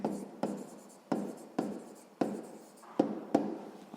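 Pen strokes scratch across paper while a math solution is written out, a close series of short scribbling bursts, each starting sharply and trailing off, with no voice over them.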